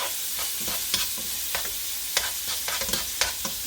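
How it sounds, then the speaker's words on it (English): Ginger and garlic frying in hot oil beside meat for a Durban-style mutton curry, a steady sizzle with a few stirring scrapes and clicks, close and moderately loud. "So I'm adding the ginger and garlic into the oil. I'm going to let it fry here on the side for a few minutes"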